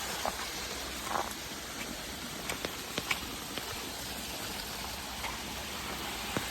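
Steady rain falls outdoors at a fishing spot, a dense continuous hiss with scattered louder drops and splashes close by, and no voices.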